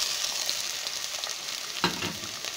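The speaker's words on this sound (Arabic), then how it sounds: "بالشكل ده كده هبتدي ان انا انزل بالبصلة اللي معايا" Onion frying in hot oil in a pan for a béchamel pasta bake, with a steady close sizzle throughout and one brief louder stir or clatter near the end; no one speaks.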